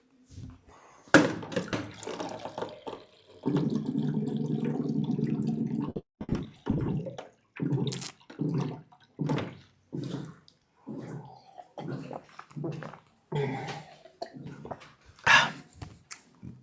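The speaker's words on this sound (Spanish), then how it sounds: "déjenme voy rapidísimo por un vasito de agua" Water pours from a tap into a drinking glass, a steady rushing stream lasting a few seconds, followed by short bursts of clinks and handling noises nearby.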